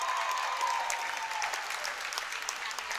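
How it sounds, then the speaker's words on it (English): Wrestling fans in a varsity championship crowd cheer and applaud steadily for the full stretch, a dense, sustained wash of clapping and shouting with no lull. "the Casa fans who've been awfully quiet of late get something to cheer about"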